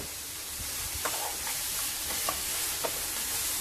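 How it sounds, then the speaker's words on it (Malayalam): A carrot and egg mixture seasoned with cardamom powder is stirred in a hot pan, a steady soft sizzle with a few faint scrapes and taps of the spoon. "ഇളക്കി ഒന്ന് യോജിപ്പിച്ച് എടുക്കാം."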